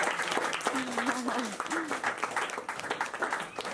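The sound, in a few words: applause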